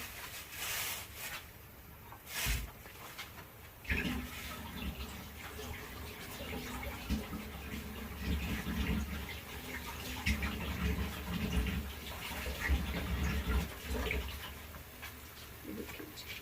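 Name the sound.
water being poured into a pan of onions for chicken pulao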